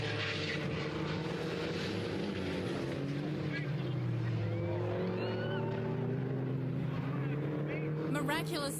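MINI Challenge race cars on the final lap, engines droning and shifting in pitch as they pass, with a voice talking over the blended motor noise.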